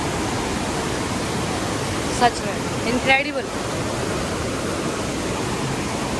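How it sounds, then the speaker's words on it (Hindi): Cold river water flows past the Manikaran hot springs in a steady, full rush that fills the scene, while a voice speaks briefly over it. "यहाँ पे ठंडा पानी बह रहा, बिल्कुल दोनों मिक्स हो रहे बिल्कुल"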